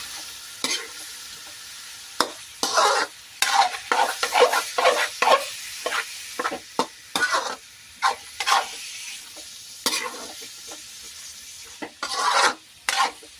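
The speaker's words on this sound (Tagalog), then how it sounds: "igisa talaga muna natin maigi" Pork menudo ingredients sauté in a pan with a soft sizzle under repeated bursts of scraping and stirring. The strokes come close together, with short pauses between them.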